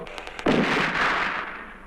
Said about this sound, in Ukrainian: звук такий вибуху розбився вщент